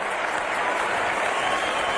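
A cricket crowd at the SCG applauds Allan Border as he walks out, with steady, dense clapping filling the ground continuously for two seconds and no break.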